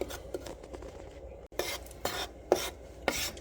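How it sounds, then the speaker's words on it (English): A plastic spatula stirring a flour roux in a non-stick pan, sounding as soft rhythmic scrapes and rubs about every half second over a faint sizzle, fairly quiet. "Since this is a non-stick pan, I'm using a plastic spatula. Keep from scraping the pan up."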